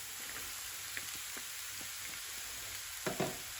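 Onions frying in a pan over medium-low heat for caramelising, a steady close sizzle with a few soft stirring knocks and a brief louder crackle near the end.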